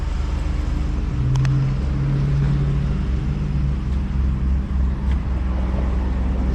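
A stock Ford F-150 pickup truck engine idles steadily with a low exhaust rumble that holds throughout, fairly close and fairly loud, with no talking.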